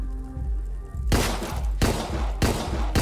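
Three loud, sharp pistol shots in Deadbolt Remastered crack one after another about two-thirds of a second apart, each with a short booming tail, following a quieter humming game backdrop.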